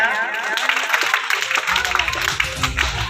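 At a school Children's Day celebration, children clap to welcome guests, a loose, uneven patter of many small hands that grows busier partway through, with voices mixed in.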